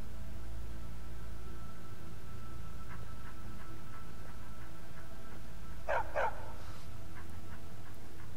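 A war dog in the video game Skyrim gives a couple of sharp barks near the middle of the stretch, with fainter yips before and after over a constant low background hum.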